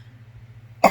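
A single sharp cough bursts out at the very end, close and loud, after a near-silent pause, from a person unboxing cosmetics who suddenly reacts to a smell.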